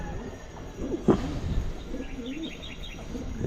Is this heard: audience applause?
no